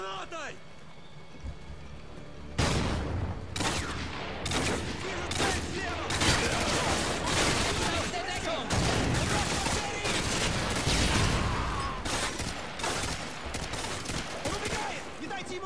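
Dense, continuous gunfire and explosions from the video game Modern Warfare 2, sustained bursts after a quiet start, loud and close with a busy battle mix; a voice speaks over it.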